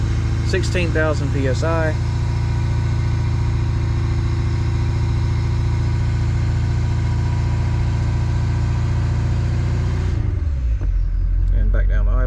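A Ford 6.7L diesel truck engine holds a steady, loud mid-revving drone at about 1500 RPM, with someone talking briefly over the start before the engine drops back toward idle near the end.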